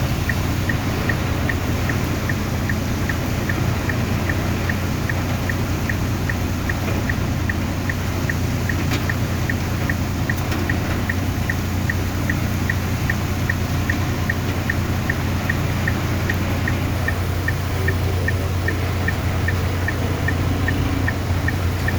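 Steady, dense rain pours without a break, a constant loud hiss with a low rumble beneath it and no voices.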